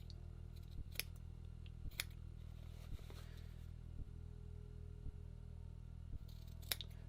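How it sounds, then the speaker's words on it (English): Scissors snipping bulk from the corners of a men's sport shirt collar, about seven crisp closed-blade clicks spaced roughly a second apart over a steady low machine hum, close and fairly quiet. "I'm going to go and trim some bulk out of the corners"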